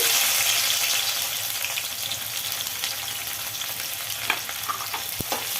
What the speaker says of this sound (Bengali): এবার বিরিয়ানিতে দেওয়ার জন্য বেরেস্তা ভেজে নিচ্ছি